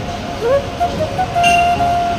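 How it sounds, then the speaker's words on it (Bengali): A train rumbles past close by, with a sustained metallic whine and tonal squeals rising over the steady rolling noise. "পাশে ট্রেন যাচ্ছে।"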